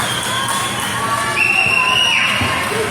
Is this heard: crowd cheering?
yes